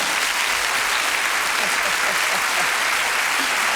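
A studio audience at a 1986 television dating show applauds loudly, a dense, continuous wash of clapping from many people, close and steady throughout with no pause.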